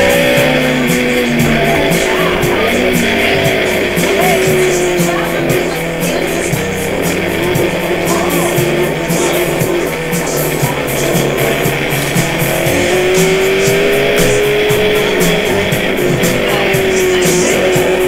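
A 1964 Ginetta G4 race car's high-revving four-cylinder engine screams continuously on a track, a loud, steady whine rising and falling with gear changes throughout.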